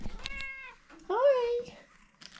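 A house cat meows twice nearby, first a short tonal call and then a longer, rising-and-falling meow, with brief human voice sounds around it.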